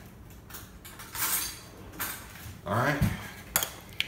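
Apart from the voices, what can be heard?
spooning pepper jelly from a jar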